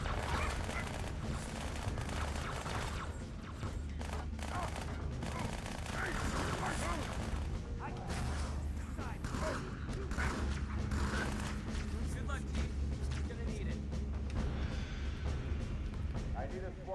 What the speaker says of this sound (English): I've got to hold down both triggers to go ahead and fire both weapons